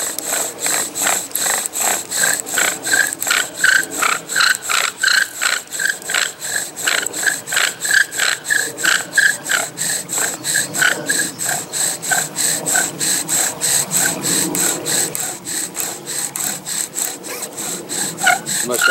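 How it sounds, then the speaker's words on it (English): A bow drill spins back and forth against wood, a rapid rhythmic scraping and squeaking that repeats steadily and loudly throughout. "Will this be the Jessica bow drill sets?"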